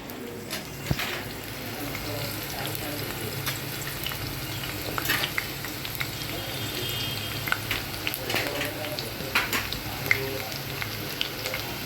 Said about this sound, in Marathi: मिरच्या चांगल्या अशा लालसर भाजून घ्यायच्या